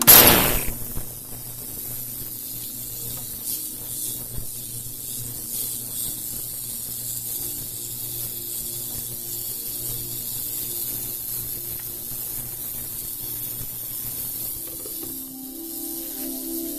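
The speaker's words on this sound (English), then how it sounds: "the next step is to turn on the cleaner" A cleaner machine runs while a batch of liposomal glutathione is being made, giving a steady low hum under a broad hiss after a louder start, continuing alone with no talk for about seventeen seconds.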